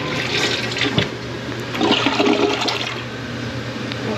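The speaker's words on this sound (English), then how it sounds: "Sorry to flush this thing how many times." A toilet flushes close by, a gurgling rush of water that surges and then drains away over a few seconds, alone with no talk.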